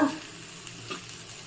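Kohlrabi chutney ingredients with coriander and curry leaves sautéing in a pan, a soft continuous sizzle with faint stirring scrapes, quiet and close.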